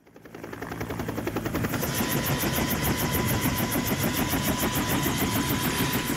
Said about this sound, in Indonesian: tim SAR mengerahkan 2 helikopter untuk mengevakuasi 4 penumpang helikopter